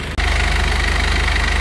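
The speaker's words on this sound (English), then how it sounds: "I hope you can hear me okay over the noise of that powerful engine" A UD truck's powerful diesel engine runs loud and close, a steady idle with a rhythmic low knock and a broad mechanical roar, broken by one brief dip near the start.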